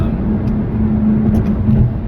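A Jaguar F-Type SVR drones along with a low, steady engine and exhaust hum from inside the car, loud and continuous, with a faint tonal note under it.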